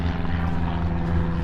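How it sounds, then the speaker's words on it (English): A propeller airplane passing overhead outdoors during a walk on steps in Europe, a steady droning engine rumble that holds at a constant level with no talk over it. "What's that airplane flying over?"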